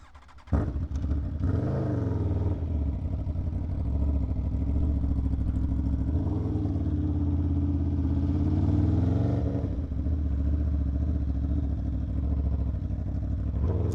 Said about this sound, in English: Ain't nothing better sounding than the V4.